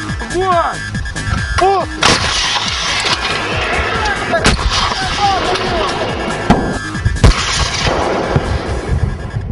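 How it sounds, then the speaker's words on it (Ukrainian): Artillery fire during military training rings out in loud, sharp reports over steady outdoor noise, with several distinct shots spaced across the stretch and a voice briefly audible early on. "коли авіація не здатна забезпечити надійну підтримку, в бій вступає артилерія"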